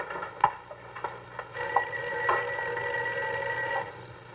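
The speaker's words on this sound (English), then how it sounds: "I think your phone is ringing." An office telephone rings with a steady, bright electric bell tone that starts partway through after a few soft clicks and knocks, sounding clearly at moderate volume.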